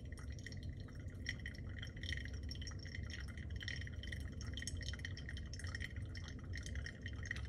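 Water is poured over ground Ethiopian coffee in a Hario V60 dripper, a soft continuous trickling stream with light dripping and faint glassy ringing, steady and quiet throughout.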